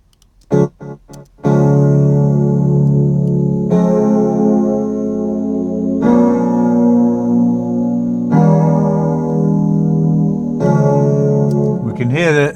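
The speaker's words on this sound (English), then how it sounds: "You can hear the size of the reverb there." Sustained electronic instrument chords loop in long held blocks, each bathed in a spacious reverb that lingers and blends into the next, after a few brief clicks.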